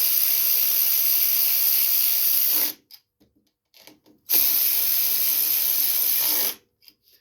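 A power driver or ratchet tightens the two carburetor bolts on a Toro TimeCutter zero-turn riding mower, running in two steady whirring bursts of about two seconds each with a short quiet gap of small handling clicks between them.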